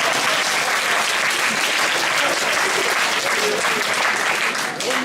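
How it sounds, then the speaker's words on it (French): An audience breaks into sustained, dense applause, loud and continuous throughout, with faint crowd noise underneath. "Il se pourrait que ce soir, il y ait des tonnerres d'applaudissements."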